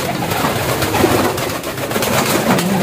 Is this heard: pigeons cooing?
yes